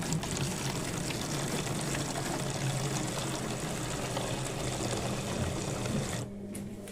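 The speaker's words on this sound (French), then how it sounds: "Je vais me rincer un petit peu ce bidon là." Water splashing and swirling inside a plastic jug being rinsed while cleaning a washing machine drum, a steady close rushing wash that stops abruptly near the end.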